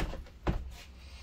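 A door in a 2019 Airstream Atlas Class B RV swings shut with a single dull thud, close by, after a faint shuffle.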